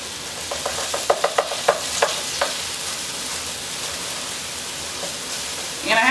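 Burger patties frying in olive oil in a pan over medium-high heat give off a steady, close sizzle, with a few light taps near the start and a brief louder rustle at the end.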